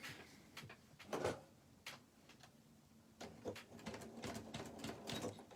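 A sewing machine stitches a quarter-inch seam on a fabric pencil pouch for a planner. It runs close by in short mechanical bursts separated by brief pauses.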